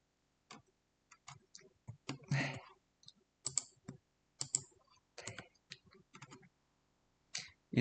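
Irregular clusters of sharp mouse and key clicks while working in quantum chip design software, close and fairly quiet, scattered in uneven bursts with short silent gaps.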